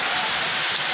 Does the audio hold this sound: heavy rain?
yes